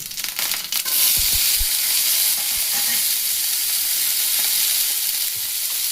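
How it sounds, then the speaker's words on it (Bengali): Capsicum and tomato sizzle in a hot pan, with a few sharp clatters of stirring at the start, then a steady loud frying hiss that carries on alone. "এখানে দিয়ে দেবো ক্যাপসিকাম আর টমেটো"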